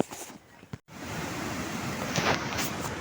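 A river rushes past close by, a dense, loud, steady roar of flowing water after a brief cut at the start.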